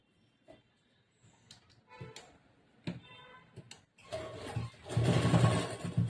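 A sewing machine stitches a blouse, running in short bursts with pauses and clicks, then a louder, denser stretch of continuous mechanical whirring near the end.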